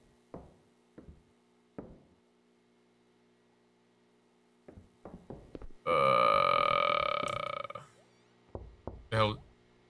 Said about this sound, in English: Who shut the door and who's knocking?